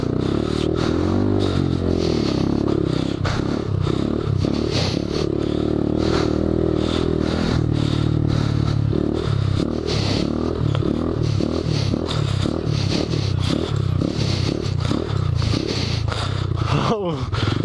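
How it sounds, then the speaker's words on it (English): A Honda Grom motorcycle bouncing over whoops on a wet motocross track, with a continuous loud engine drone, rhythmic clattering and thumping from the bumps, and fluctuating revs throughout. "I can hear your bike bouncing."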